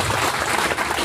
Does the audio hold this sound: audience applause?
yes